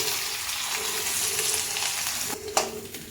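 Cumin seeds and onion frying in ghee in a pan give a steady, close sizzle that runs without pause, with a sharper crackle burst near the end.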